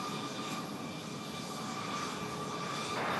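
Jet airliner on takeoff roll from runway 5 right at Raleigh-Durham International Airport, a steady, loud broadband engine roar with a whining tone, sustained without pause and swelling slightly at the end.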